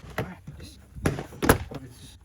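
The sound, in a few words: door panel clips pulled off a 2018 BMW door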